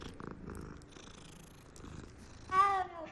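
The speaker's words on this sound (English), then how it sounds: "Yeah, I love petting cats. I'm gonna continue petting this cat." A cat in the Hogwarts Legacy video game purrs softly and steadily while being petted, then lets out a brief, louder meow near the end.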